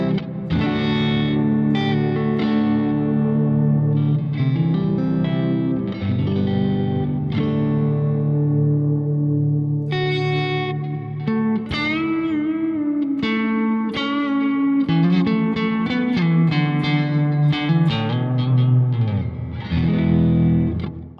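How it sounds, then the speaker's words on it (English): An electric guitar plays through a pedal's modulated reverb with no delay, giving sustained chords and single notes a lush, wavering wash. The passage is continuous and loud, with no voices. "Here's the modulated reverb, no delays at all."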